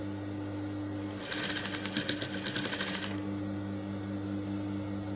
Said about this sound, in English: So I'm sewing right on the neckline.